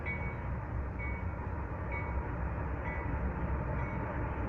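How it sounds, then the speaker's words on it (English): A Southern Pacific locomotive and its train pass steadily nearby, giving a continuous rumbling roll with faint metallic squeals recurring throughout, and no voices. "No way, a Southern Pacific locomotive."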